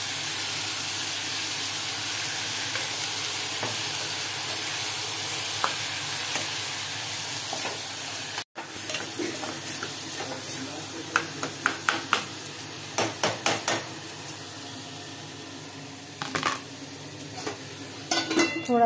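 Salted eggs fry in a pan with a steady close sizzle, broken by sharp scraping stir strokes that come in quick clusters during the second half.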